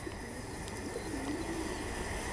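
A pure Pakistani Rampuri pigeon gives one soft, low coo over a constant background hiss.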